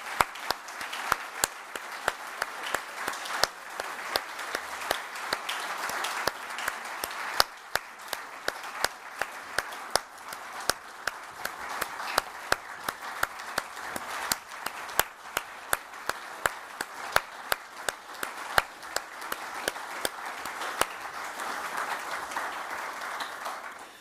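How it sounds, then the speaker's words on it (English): A large audience at a central banking forum award ceremony claps steadily and continuously, a dense mass of overlapping handclaps with sharper individual claps popping out, with no voices. "I think we should give all of them a big round of applause"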